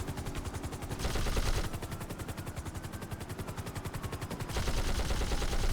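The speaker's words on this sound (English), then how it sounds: "I'm gonna go ahead and try to actually fire warning shots first" Rapid bursts of machine-gun fire from a helicopter in the video game GTA 5, loud, dense and continuous, with a faint rotor drone underneath.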